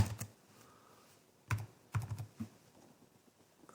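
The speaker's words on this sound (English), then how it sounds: "I can type stuff in here." Short clusters of keystrokes on a computer keyboard, quiet and close, with pauses between the bursts and no talking.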